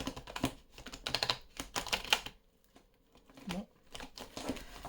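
Tarot cards are shuffled by hand close by, in irregular crisp rustling and flicking bursts with short pauses, and a voice briefly speaks.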